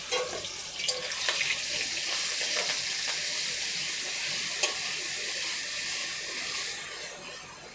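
Onion paste and chopped garlic fry in a pan, a steady bright sizzle running throughout with occasional faint clicks of stirring, close and moderately loud, with no talking.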